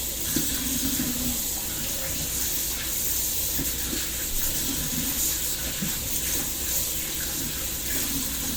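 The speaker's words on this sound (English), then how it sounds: "I'm gonna just go ahead and wash my hands then" Running tap water pours steadily into a sink as hands covered in cookie batter are washed, a constant close hiss with light splashing throughout.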